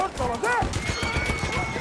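A horse whinnies loudly in the World War I shooter Battlefield 1, then hooves clip-clop in a steady gallop, with gunfire and speech mixed in.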